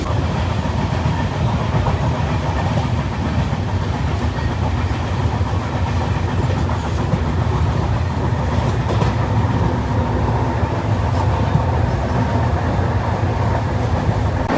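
A train rumbles steadily along the tracks, a loud continuous roar with faint rhythmic clatter from the wheels throughout.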